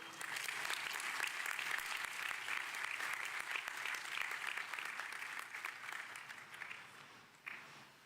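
Applause from an outdoor audience at the convention center groundbreaking in Dallas welcomes two legislators, a steady, dense wash of clapping that holds for several seconds, then tapers off near the end with a final burst.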